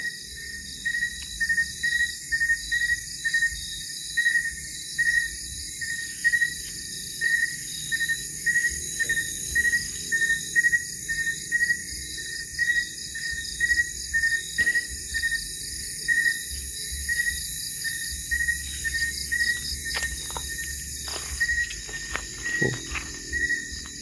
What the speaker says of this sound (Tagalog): naririnig na natin yung tinig ng isang kulisap guys, na nasa ilaliman na ng gabi